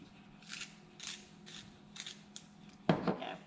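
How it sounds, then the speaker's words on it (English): A dull pencil being sharpened by hand: a few soft, scraping grinding passes, then a sharper, louder burst of twisting near the end, close and unaccompanied by speech. "I need to sharpen my pencil because it's dull."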